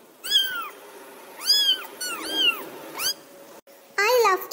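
A brown and black pet cat in an animated English lesson meows several times, drawn-out rising and falling cries heard close and clear, with a longer, busier meow at the end.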